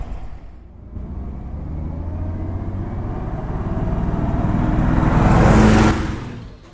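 A 1946 Dodge WD20 pickup truck, an original milk dairy truck, drives with a steady low engine rumble that slowly builds and swells, then a louder rushing surge as it passes close, and fades at the end.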